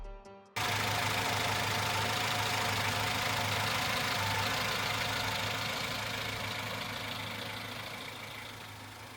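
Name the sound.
Yamaha F80B outboard boat motor running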